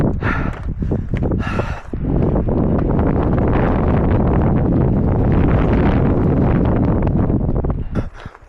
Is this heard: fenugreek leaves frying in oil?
no